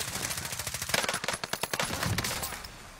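Heavy automatic gunfire in a video game, rapid rattling bursts with sharp repeated cracks layered over one another, loud and continuous for a few seconds.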